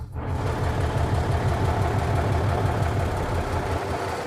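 A heavy diesel truck engine with two gearboxes idles nearby with a steady low, throbbing rumble and no voices.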